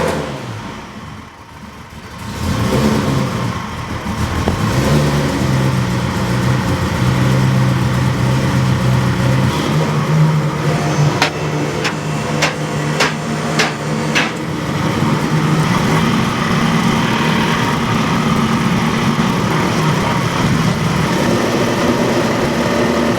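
Ferrari engine idling steadily in an Alfa 105 up on a hoist, a continuous close, even drone with a few sharp clicks partway through.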